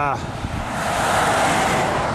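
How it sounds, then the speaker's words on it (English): Wind buffets the microphone in a moving vehicle driving along Highway 730 beside a river, a loud, steady roaring rush that swells and stays dense, with a brief bit of voice at the start. "I hope you can hear me over the wind"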